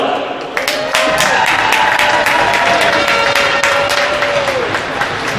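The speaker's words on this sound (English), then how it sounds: "Please give a round of applause for Alec." A loud arena crowd at a hockey senior night applauds and cheers continuously, dense clapping filling the rink while an announcer's amplified voice carries over it.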